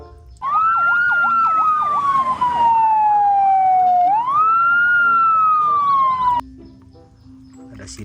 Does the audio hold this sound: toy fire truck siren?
yes